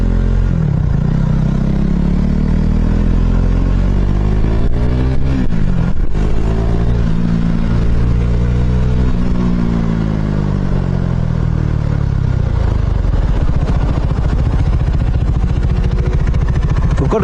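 A loud motorcycle engine drones close by as it filters through road traffic, its pitch rising and falling as it revs and shifts, with wind buffeting throughout.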